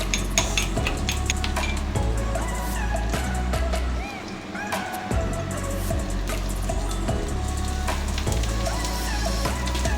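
Ginger is stirred into onions frying in a pan, giving a steady sizzle with frequent clinks and scrapes of a utensil against the metal. The sizzle briefly drops away partway through.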